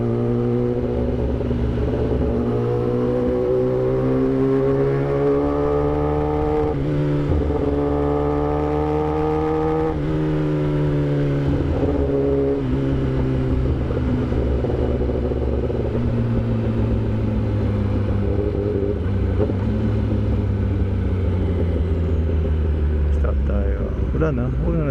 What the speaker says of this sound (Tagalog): gusto ko magmotor ang malaki dahil ine-enjoy ko yung tunog ng exhaust